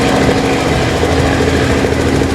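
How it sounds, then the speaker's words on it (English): A helicopter flies low over a minor league baseball field for a candy drop, its engine a loud, steady droning roar that fills the whole clip with no talk over it. "You can hear the helicopter"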